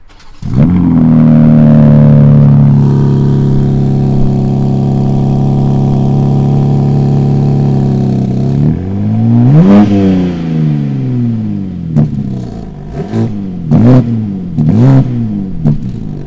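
A BMW M4 Competition engine cranks and fires up cold, settles into a steady throaty idle, then gives several sharp revs that rise and fall, loud and close.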